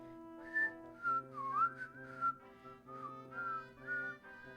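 A person whistles a melody from the Deadly Premonition video game, clear and close, with short phrases that slide between notes over a soft, sustained harmonic backing track.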